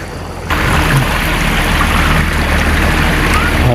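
Water rushes and flows continuously at close range, a loud broad wash that bursts in after a brief quieter moment and stays constant.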